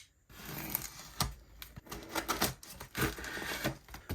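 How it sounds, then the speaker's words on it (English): Knife cutting packing tape on a cardboard box, heard as a close, quiet run of rapid scraping, slicing and tapping sounds in irregular bursts with no speech. "So let's cut the tape."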